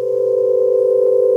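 A synthesized square-wave organ tone made in FL Studio holds one steady, loud, buzzy pitch with no attack swell or fade, sounding alone without talk.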